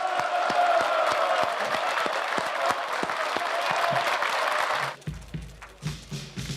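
A crowd at a Kim Dae-jung presidential election rally claps in sustained, dense applause for about five seconds, then it abruptly cuts to quieter, uneven sounds.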